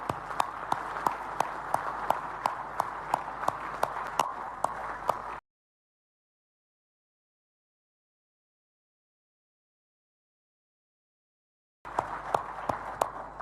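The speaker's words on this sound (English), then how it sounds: "Please join me in applauding His Excellency President Macky Sall" Delegates at the Dakar 2 food summit in January 2023 applaud a head of state. The crisp, fairly faint clapping comes in two bursts split by a long stretch of total silence, and no one speaks.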